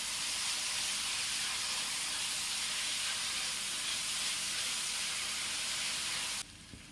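Beef biryani masala sautés in a pan with a loud, steady broadband hiss and sizzle that runs almost unbroken, then drops suddenly near the end.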